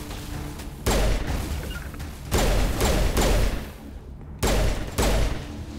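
Gunfire in the Mass Effect Legendary Edition video game comes in four loud, separate bursts of rapid shots. Short gaps between them carry a lower background hum.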